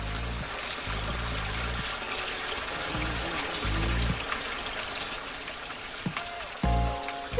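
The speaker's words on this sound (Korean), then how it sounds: "물 소리 들리는데? 여기 개울이 있어요." A small mountain stream flows near a house, a steady broadband rush of running water with a low droning hum that cuts in and out underneath.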